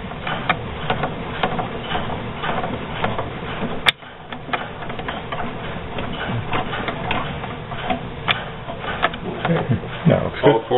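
The cam lobes of a PMC drop mechanism cycle against a roller pin in a steady train of close mechanical clicks and knocks, with one sharp bang partway through and a voice talking over it.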